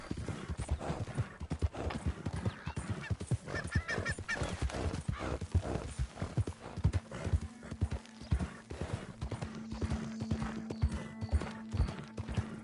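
A horse gallops in Red Dead Redemption 2, its hoofbeats a rapid, steady clip-clop at close range, with a brief whinny and a faint sustained tone partway through.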